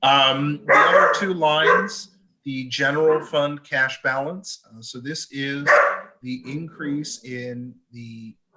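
Barking from a household dog sits in the background of an online village finance committee meeting, heard beneath someone talking continuously.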